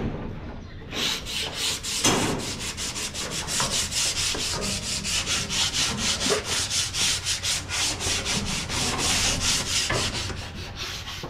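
Sandpaper rubbed over wood for a pigeon loft aviary: steady, close, rhythmic back-and-forth scraping strokes that run continuously with no talking.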